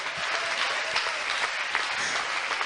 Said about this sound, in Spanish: dele un aplauso al Señor en esta tarde